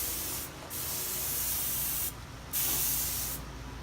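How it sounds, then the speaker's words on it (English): Bursts of hissing spray from a hose-fed paint sprayer coating a storage cabinet, three long passes separated by brief quieter gaps, close and loud with no talking. "Try spraying the side first to see if it's the consistency you like"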